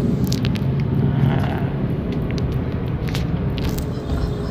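A manual-transmission car is driven and accelerated on a learner drive, its engine rumbling steadily from inside the cabin with a few clicks and rattles, and no talk.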